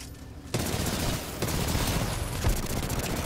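Sustained gunfire from Titanfall 2 rattles on in a dense, continuous fusillade, loud and close, with a sharper burst at the start and occasional stronger cracks throughout.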